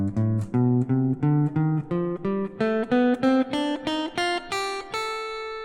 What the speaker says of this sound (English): Let's take a look at how to play the Mixolydian flat 6 scale on the guitar.